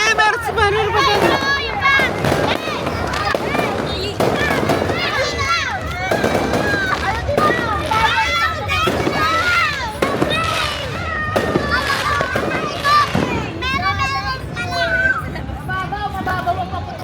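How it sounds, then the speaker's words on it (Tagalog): New Year fireworks and firecrackers burst in a dense, continuous barrage of cracks and booms for the whole stretch, loud and close, with a crowd chattering and calling out underneath. "Mababaw ang paputok."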